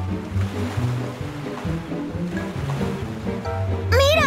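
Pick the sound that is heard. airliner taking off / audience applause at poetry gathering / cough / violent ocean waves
violent ocean waves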